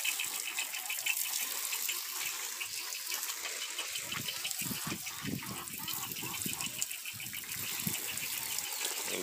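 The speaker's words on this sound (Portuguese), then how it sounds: "Tá aguando tudo aqui rápido." A garden hose sprays water onto plants in a basin, a steady rushing gush that runs throughout, with intermittent low splashing and faint bird-like honks in the background.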